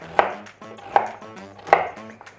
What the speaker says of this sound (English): I'm just going to chop this up